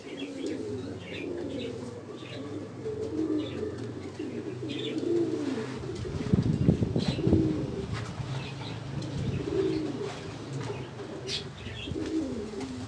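Domestic pigeons coo in a loft, a steady low murmur of overlapping coos with occasional chirps and brief wing flaps, growing busier midway, with no talk over it.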